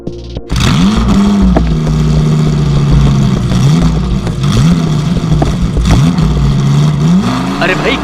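A car engine revving repeatedly while stuck with its tyres lifted off the ground, loud and close, rising and falling in several surging rev cycles, with people talking over it.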